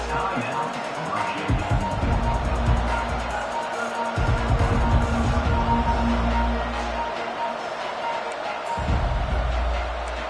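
Stadium crowd at a college football game, a loud dense roar that swells and surges with heavy low rumbles, voices mixed in throughout.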